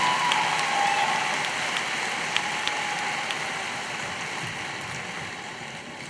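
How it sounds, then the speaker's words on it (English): Sustained applause from a large crowd at a university computer science graduation celebration honoring the 2025 master's class, a dense wash of clapping that starts loud and slowly fades with no speech over it. "let's give one more round of applause to our class of 2025 of Master in Data"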